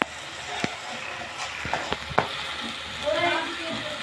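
Food frying in oil makes a soft, steady sizzle, with a few faint clicks and stirring taps from the pan, heard close by in a home kitchen.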